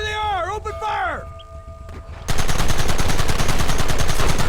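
Rapid gunfire erupts in a Red Dead Redemption shootout, a loud, sustained volley of overlapping shots that cuts in abruptly after a brief shouted voice and a quiet pause.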